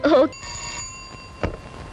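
A voice speaks briefly, then a steady electronic telephone ring tone sounds for about half a second, fairly faint, followed by a soft knock.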